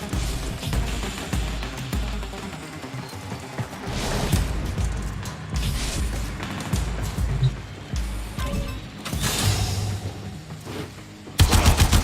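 Rapid gunfire in the video game Warframe, with dense bursts of automatic shots and booms running almost continuously, loud and close, ending in a sharp, harsh burst.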